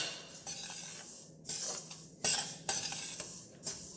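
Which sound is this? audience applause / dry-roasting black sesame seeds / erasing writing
dry-roasting black sesame seeds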